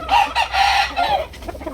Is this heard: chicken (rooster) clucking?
yes